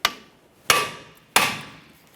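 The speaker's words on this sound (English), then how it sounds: "We're applying pressure and we'll tap it with a hammer." A hammer strikes metal three times at a steady, evenly spaced rhythm, each loud, sharp ringing hit decaying quickly, close up on a 2012-2015 Honda Civic front wheel assembly while a brake rotor is knocked free, no voices.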